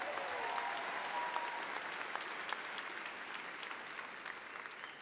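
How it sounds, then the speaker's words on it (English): A large crowd at a high school graduation ceremony applauds continuously, a faint, even wash of clapping from a distance that slowly tapers over five seconds. "If we could give one more round of applause to the outstanding choir and the student speakers"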